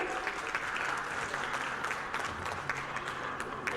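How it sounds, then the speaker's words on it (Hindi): Audience at an award ceremony in Indore claps loudly and steadily, a dense, continuous wash of applause lasting the whole stretch without pause. "जोरदार तालियां बजती रहे"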